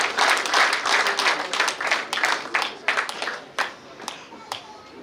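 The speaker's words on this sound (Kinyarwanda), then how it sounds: "Mwabonye muhawe amashyi muhashimiye" Wedding guests at a Rwandan introduction and dowry ceremony clap in a brisk burst of applause that thins into scattered claps, with faint voices beneath.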